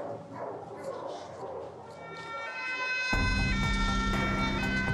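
A fire engine siren wails on its way to an animal shelter, its loud sustained tone coming in sharply halfway through over a dog barking nearby.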